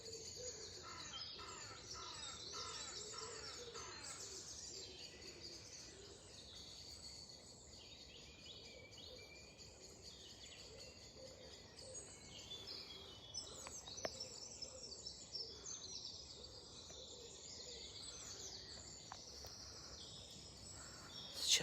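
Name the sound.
birds singing in a park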